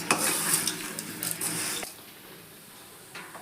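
Dry Maggi noodles roast in a pan without oil, giving a crisp, rustling sizzle and scraping as they are stirred, then fading to near quiet before one last soft scrape.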